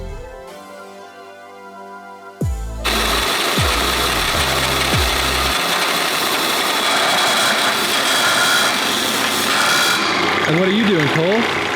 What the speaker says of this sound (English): I'm flattening a pipe.